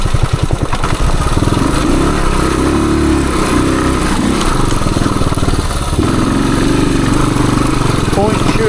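A 1978 Suzuki DR370 motorcycle engine pulls hard in second gear up a wooded trail hill climb, a loud, steady, throaty single-cylinder drone held throughout with a brief dip and surge near the middle; a voice speaks over it.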